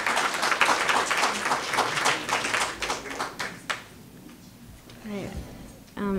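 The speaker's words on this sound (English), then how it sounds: "one more round of applause for our great speakers" An audience applauds the speakers at the end of a panel on media and Islam, a full round of clapping that thins and fades out before a voice starts speaking.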